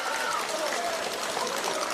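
A basketball crowd in Dandenong cheers a three-pointer, a brief wash of cheering and clapping that sounds steady and moderately loud.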